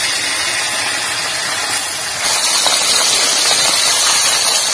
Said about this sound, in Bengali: তেল গরম হয়ে গেছে, এখন মাছ কটা ভেজে নেব।